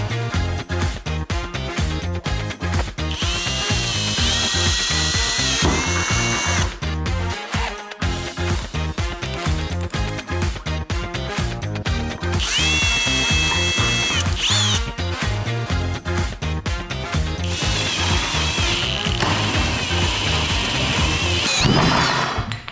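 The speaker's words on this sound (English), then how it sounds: "The drill bit came off, but I did it." A power drill boring into wood while building a floating desk, heard as a loud, continuous mechanical grind with rattling and high whining stretches, close to the drill, with only a brief dip partway through.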